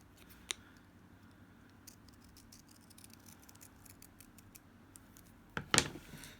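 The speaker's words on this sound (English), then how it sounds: "now I'm going to cut from the top right point down to the bottom left point" Scissors cut a paper leaf shape, with one crisp snip early on, faint rustling, then a louder cluster of snips and crinkling near the end, close and quiet.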